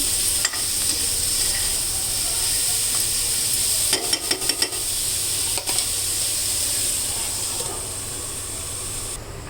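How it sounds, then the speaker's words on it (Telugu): Mixed vegetables, broccoli with red, green and yellow capsicum, fry in a pan with a loud continuous hiss and sizzle, broken by a few quick scraping stirs. "కాస్త వేగనిద్దాం"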